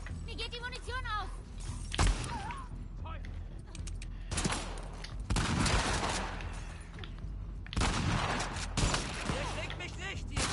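Gunfire in The Last of Us Part II gameplay, bursts of shots and rapid fusillades mixed with game effects, while a player talks over them throughout.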